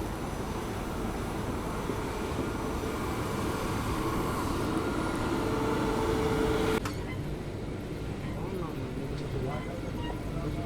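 Steady rumble of a moving superfast express train, the Vijayawada to MGR Chennai Central Pinakini, heard from on board while overtaking a special train, with a sudden shift in tone partway through.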